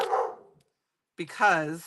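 A pet dog gives one loud, close bark indoors, then after a short silence lets out a drawn-out whining yelp.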